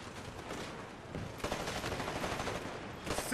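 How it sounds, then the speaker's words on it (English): Dense, rapid gunfire from the video game Titanfall on Xbox One, a continuous rattling burst that runs the whole time and grows louder midway, with no talk over it. "I'm shooting everything."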